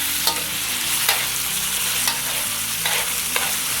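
Tomatoes cooking in a pan are stirred, producing a steady sizzle with several distinct scraping strokes spaced roughly a second apart, loud and close.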